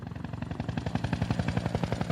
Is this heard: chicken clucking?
no